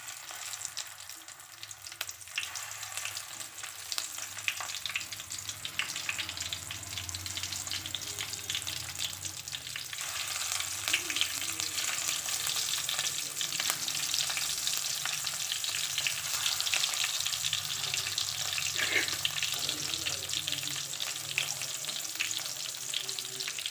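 Stuffed eggplant pieces frying in plenty of hot oil, making a continuous close sizzle with bubbling and crackling that grows slightly louder midway, with no speech.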